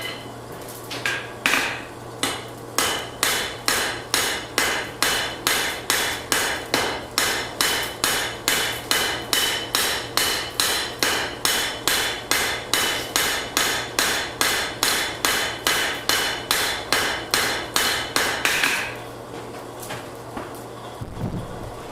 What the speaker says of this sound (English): Titanium hammer.